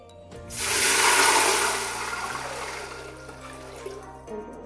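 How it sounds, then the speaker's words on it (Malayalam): Water pours into a large biryani pot of spiced mixture, a rushing splash that swells quickly, peaks for about a second, then eases into a softer trickle. "അല്ലെങ്കിൽ നമ്മൾ വെള്ളം ആഡ് ചെയ്ത് കൊടുക്കുകയാണ്"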